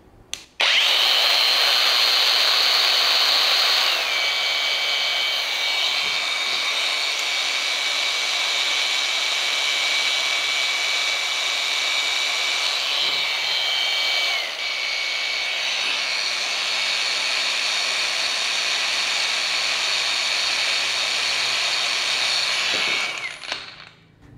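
A Vrill VAG2100 cordless brushless angle grinder spins freely at lower speed settings, a steady high-pitched whine that drops in pitch partway through and winds down at the end, loud and close with no voices.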